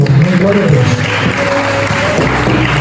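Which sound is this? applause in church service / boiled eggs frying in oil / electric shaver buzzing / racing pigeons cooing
applause in church service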